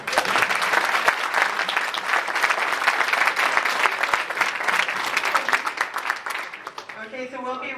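An audience applauds at a talk introducing a foosball figure, with loud, dense clapping that carries for several seconds before fading out as a voice starts speaking at the very end.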